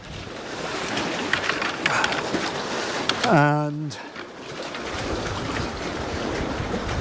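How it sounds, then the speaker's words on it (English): Steady broadband wind rush by a flooded lake fills the clip, blustery and continuous, with a brief spoken word partway through. "It is windy, it is cold, we've got a lot of wild weather"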